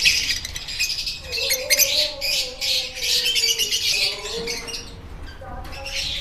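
A breeding pair of cage birds chirps and squawks close by, with busy high tweets and a few longer warbling calls throughout, alongside light rustling and flapping.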